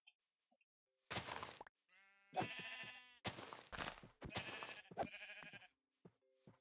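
Sheep in a Minecraft Dalek Mod game bleat repeatedly, five or six distinct wavering calls in quick succession, clear and close with short gaps between them.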